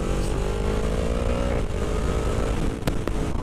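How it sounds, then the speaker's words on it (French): Yamaha MT-10 motorcycle accelerating hard with quickshifter gear changes, a loud close engine roar with rising pitch interrupted by brief sharp cuts at each shift. "Oh, ça fait un passage de rapport tellement propre."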